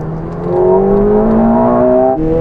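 A McLaren and a modified Ferrari 488 Pista launching from rolling speed in third gear in a drag race, one engine's tone climbing steadily and loudly before a short dip at a gearshift, close and alone.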